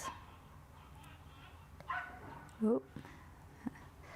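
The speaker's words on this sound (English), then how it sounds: "little dog outside is not happy." A small dog outdoors gives a few short, sharp yipping barks. They sound some distance away, against a quiet background murmur.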